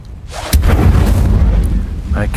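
The Incendio fire spell cast in the Hogwarts Legacy video game lands as a sudden loud burst followed by a sustained roaring, crackling blast of flame, close and heavy.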